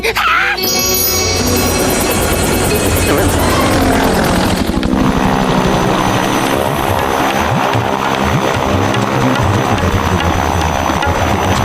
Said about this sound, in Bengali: আমি একটা ছোট প্লেনে করে উড়ে যাই।